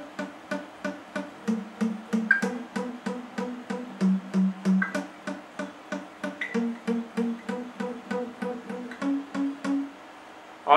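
An electric guitar plays a palm-muted riff on the fourth string: a steady run of short, chugging repeated notes with occasional pitch shifts, played alone and close.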